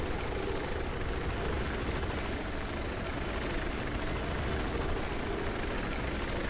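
A helicopter in the video game Battlefield 4 gives off a dense, continuous rotor and engine roar. The sound stays close and loud at an even level throughout, with no speech.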